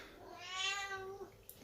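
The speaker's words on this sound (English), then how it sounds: "Cat is meowing." Cat giving a loud, drawn-out meow at close range, a single rising-then-falling cry followed by a couple of small knocks.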